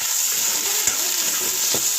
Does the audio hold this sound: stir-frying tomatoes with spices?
yes